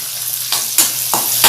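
Fenugreek powder being stirred into a frying colocasia stem curry: steady sizzling in the pan with three or four distinct scraping strokes of the spoon, close and fairly loud, no talking.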